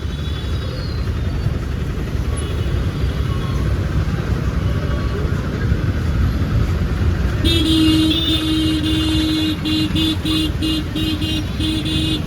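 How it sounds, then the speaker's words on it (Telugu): Traffic jam on a Hyderabad road near Balkampet temple: steady engine rumble, then a series of repeated horn honks in the second half, close and loud. "చాలా ట్రాఫిక్ ఉంది అదే ఇవన్నీ చేస్తున్నారు కాబట్టి ఇంత ట్రాఫిక్ జామ్ అయిందన్నమాట"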